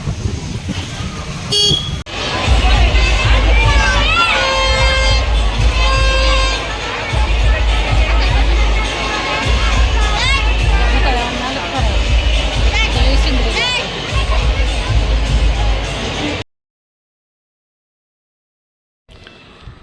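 Busy street crowd at a palkhi procession in the Hadapsar market area: constant babble of many voices mixed with car horns and passing traffic, loud and close, before it cuts to near silence at the end.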